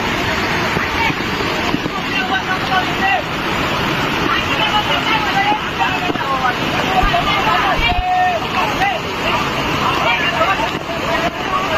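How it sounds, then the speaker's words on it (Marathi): Water thunders down at Dugarwadi waterfall during a rescue, a dense, loud roar of rushing water filling the scene throughout, with shouting voices and crowd chatter mixed in. "ताकदीने पाणी पडू राहिलं खालून"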